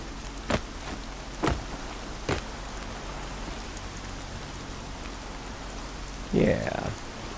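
Steady rain falls in the open-world game Horizon Zero Dawn, a constant hiss of drops with wind on a foggy mountainside, joined by a few sharp ticks and a brief voice near the end.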